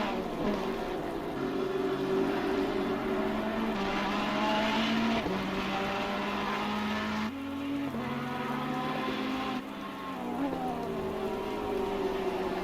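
Race cars circle during a racing game's qualifying session, with a continuous engine drone whose pitch rises and drops through gear shifts and passes, accompanied by a rainy, hissing backdrop.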